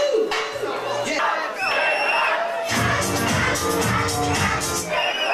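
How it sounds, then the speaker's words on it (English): A dance-hall crowd at a 1990s discotheque cheers, whoops and shouts loudly and continuously throughout, a dense roar of many voices that swells in the second half. "Give a big round of applause."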